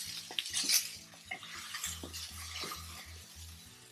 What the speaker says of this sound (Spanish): Y las voy a menear y las voy a dejar otro ratito más.